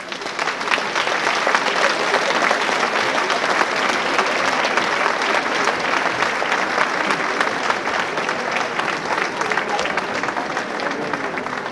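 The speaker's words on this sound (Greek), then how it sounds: "Παρακαλώ να υποδεχτούμε με ένα θερμό χειροκρότημα τα μέλη της χοροδίας Melodium από τα Μπίτολα." Applause fills a hall at a world choir festival as an audience welcomes a youth choir, dense, sustained clapping that stays steady throughout with no break.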